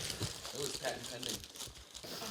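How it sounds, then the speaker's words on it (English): Wrapping paper crinkles and tears as a Christmas gift box is unwrapped, a close, continuous rustling and ripping over a few seconds. "paper tear."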